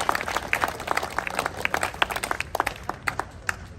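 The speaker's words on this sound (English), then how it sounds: "I'd love to have a round of applause for everyone who's been attending here tonight" An audience at an evening school commemoration event in San Jose, California claps in a dense, steady round of applause that carries on evenly throughout, with no talk over it.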